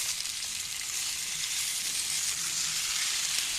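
A beetroot thalipeeth on a hot tawa, sizzling with a steady, bright frying hiss that holds evenly throughout and nothing else over it.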